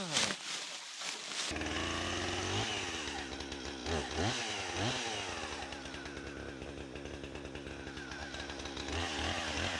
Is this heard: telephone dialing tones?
no